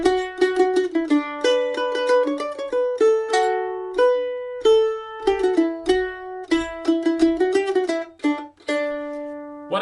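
A mandolin plays the A-part melody of an Irish-style tune alone, with bright, crisply plucked single notes and quick tremolo runs at a lively, even pace, close and clear.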